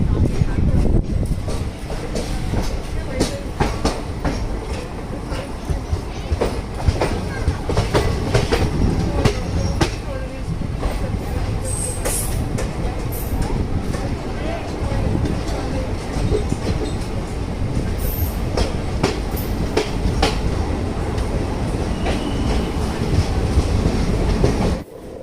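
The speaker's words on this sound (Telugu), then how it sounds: "ట్రైన్ వచ్చేసి Mumbai సిఎస్టిఎం Bhubaneswar Konark express heading towards Eluru" The Mumbai CSMT–Bhubaneswar Konark Express rolls past close by near Eluru, a loud sustained rumble of wheels and carriages with steady clickety-clack and occasional metallic squeals throughout, no voices.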